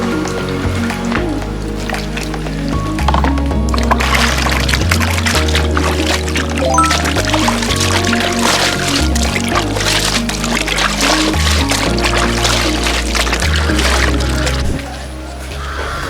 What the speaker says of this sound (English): I'm going to dip it inside the cold water to cool it down.